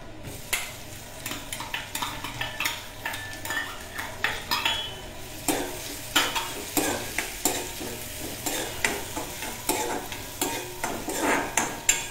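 Onions frying in hot oil in a pan, with a low sizzle under a string of sharp stirring clinks and scrapes from a utensil against the pan, close and fairly quiet. There is no talk.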